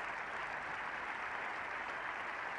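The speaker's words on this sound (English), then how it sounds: "Generous applause from all the England players and the crowd here, recognising a real touch of talent." Steady, even applause from England players and a cricket crowd at a 1977 Ashes Test against Australia, a distant-sounding wash of clapping holding unbroken throughout with no voices.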